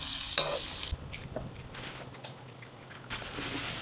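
Eggs fry in a pan with bitter gourd, giving a steady close sizzle with bursts of stirring and scraping.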